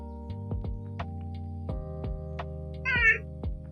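A house cat gives one short meow near the end, fairly close and clear, over a quiet background of soft ticking tones.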